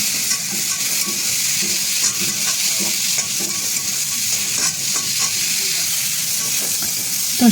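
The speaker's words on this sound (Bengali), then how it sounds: "এবার আর একটু লাল লাল করে একটু ভেজে নেব সবজিগুলোকে" Vegetables fry in a pan with salt and turmeric, giving a continuous bright sizzle and hiss broken by soft scraping stirs, close and steady throughout.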